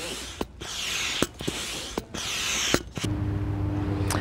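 Rhythmic pump strokes inflating a 16-foot stand-up paddle board, each stroke a rushing hiss of air with a mechanical click at the turn, repeating roughly every second, close and alone. A steadier hum follows.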